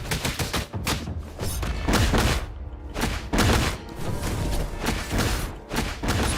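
A launcher firing in a video game, a dense run of repeated loud blasts and thuds coming in rapid rhythmic bursts, close and powerful, with brief gaps between volleys.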